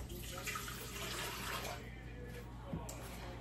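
Room-temperature water poured into a bread machine pan, a steady splashing pour at close range lasting a few seconds, with a quiet background hum beneath it.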